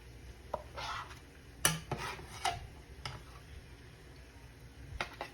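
Light clinks and scrapes of a utensil against a pot and dish while serving chicken, a few sharp taps scattered among quieter scraping, close by.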